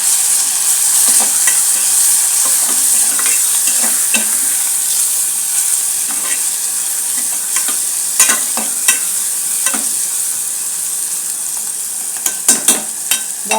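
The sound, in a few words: chicken frying with turmeric, being stirred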